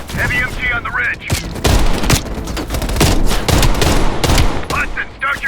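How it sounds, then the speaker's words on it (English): Heavy machine gun fire in the Call of Duty Black Ops Cold War video game, loud sustained bursts of rapid shots with booming impacts, and voices speaking between and over the gunfire. "Heavy MG on the ridge."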